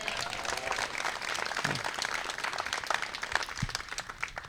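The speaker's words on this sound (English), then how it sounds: "So please give them another round of applause." An audience at a training academy graduation ceremony gives a round of applause, a steady, fairly loud wash of many hands clapping at once that carries on throughout, with no talk over it.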